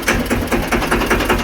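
Tractor engine running rough while broken down, a loud close diesel chug pulsing in an uneven rhythm.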